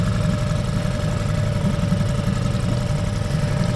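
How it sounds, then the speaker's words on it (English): A small outboard motor on a fishing boat idling as it warms up, with a steady low, close, throbbing hum and a faint whine above it. "I always like to start this motor first before shutting off the big motor"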